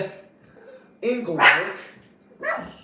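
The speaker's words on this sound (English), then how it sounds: "Excuse the dogs barking in the background." Several dogs bark in the background, a few sharp yapping bursts in quick succession, fairly close and loud, while someone speaks over them.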